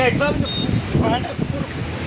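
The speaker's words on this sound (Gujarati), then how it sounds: "અહીંયા એકદમ પાણી વહી રહ્યા છે" Floodwater rushes loudly and continuously near a dam release during heavy monsoon rain in Gujarat, a broad roaring wash with someone talking over it.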